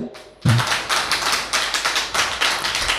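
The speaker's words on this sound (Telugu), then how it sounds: "చప్పట్లు కొట్టండి ఒకసారి." A church congregation at a Bible study applauds, a sudden burst of many hands clapping in quick, uneven bursts that carry on for a few seconds at close range.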